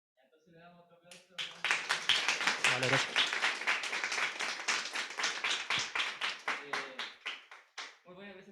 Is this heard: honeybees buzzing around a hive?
no